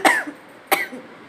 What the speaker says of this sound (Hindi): खांसी हो रही है मुझे थोड़ी सी